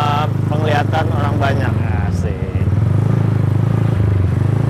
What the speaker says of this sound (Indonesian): Jalan-jalan sore naik motor keren begini